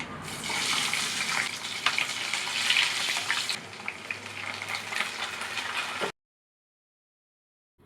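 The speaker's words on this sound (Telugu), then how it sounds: "మనకి పోపు అనేది ఈ మాత్రం ఫ్రై అయితే సరిపోతుందండి." Tempering spices sizzle in hot ghee for sambar rice, a close, steady hissing crackle with light stirring that runs for about six seconds and then cuts off.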